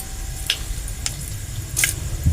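Mustard seeds crackle and sizzle in hot oil in a pan with chopped potatoes, a soft steady fizz broken by a few sharp pops, close and fairly quiet, with no talking.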